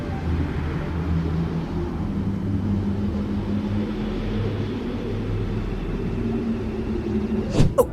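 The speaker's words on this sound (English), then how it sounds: "Earth sounds heavily distorted, almost like radio interference and pulsating whooshes that could resemble cars passing by on a highway." Earth heard from space as heavily distorted, radio-like interference, a steady low rumbling roar with pulsing whooshes like traffic on a highway, ending in a couple of brief sharp crackles.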